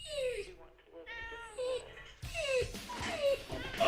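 A house cat meows repeatedly in short, rising and falling cries, close to the microphone, while a person talks over and between the calls.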